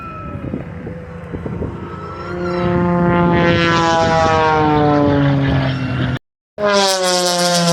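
A propeller aircraft performing aerobatic maneuvers at the Owls Head, Maine, Wheels and Wings air show roars loudly overhead, its engine pitch rising and sliding as it passes close, with a brief cut near the end.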